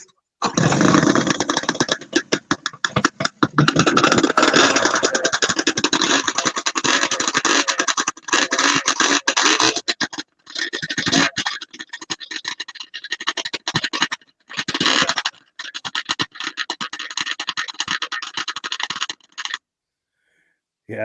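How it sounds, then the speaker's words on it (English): A vintage snowmobile engine with stinger pipes starts and runs in rough, crackling bursts, loud and close at first, then breaking into sputtering pops separated by short gaps before cutting out. "I like how those stinger pipes make that crackling sound"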